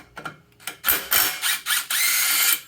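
Ratcheting wrench torquing the 19 mm secondary clutch bolt on a Speed UTV, a few short clicking bursts then longer steady ratchet runs, close and fairly loud with no talk.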